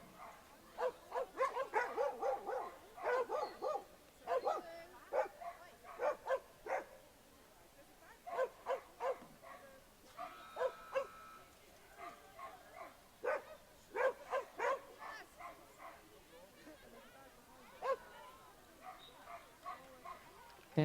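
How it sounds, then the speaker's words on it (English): A toy poodle competing at a dog agility event barks repeatedly in quick, sharp bursts throughout, fairly close, with brief pauses between volleys. "This is a toy poodle."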